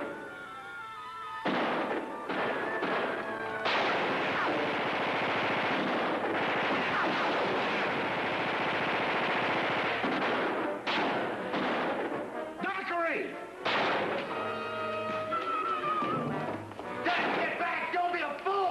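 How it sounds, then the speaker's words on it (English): Gunfire and explosive blasts fill an action scene from a 1953 movie, loud and nearly continuous over a dense soundtrack, with shouted voices breaking through. "Lao Shan, stop shooting and listen!"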